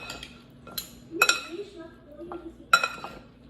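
A utensil stirs tomato salad in a bowl, giving sharp clinks and scrapes against the dish, scattered at irregular intervals, with soft speech-like sounds between.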